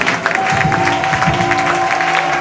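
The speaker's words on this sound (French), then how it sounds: "Je veux que tu acclames le Seigneur" A church congregation applauding and acclaiming the Lord during a sermon, producing a dense, loud wash of clapping and crowd noise close by, with a sustained tone running underneath.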